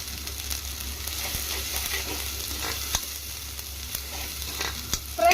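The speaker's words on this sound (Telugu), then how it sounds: "అల్లం వెల్లుల్లి పేస్ట్ వేసుకొని ఇది పచ్చి వాసన పోయే వరకు మీడియం ఫ్లేమ్ మీద పెట్టే ఫ్రై చేసుకుందాం" Ginger garlic paste fries in a pan over a medium flame for egg biryani, giving a steady close sizzle with light scraping and stirring throughout, with no talk.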